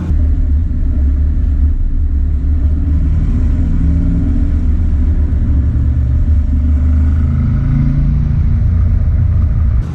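A 1969 Iso Rivolta Lele's engine rumbles loud and steady throughout, a close, continuous deep drone with slight shifts in pitch and no voices.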